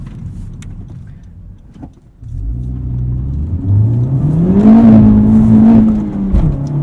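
A 2020 Honda Civic Type R, front-wheel drive, accelerates hard from a quiet idle into a rising engine roar that climbs in pitch and holds loud and close, heard from inside the car.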